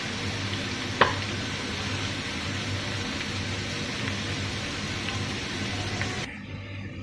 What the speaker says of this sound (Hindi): 2 से 3 मिनट के लिए हम इसको फ्राई करेंगे ताकि अदरक और लहसुन का कच्चापन ख़त्म हो जाए